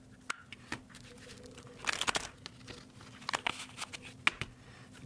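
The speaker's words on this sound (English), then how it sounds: "Let's shuffle a couple times just for you." Tarot cards are shuffled by hand in an irregular string of close, crisp riffles, snaps and papery slaps, with a louder flurry in the middle and scattered clicks toward the end.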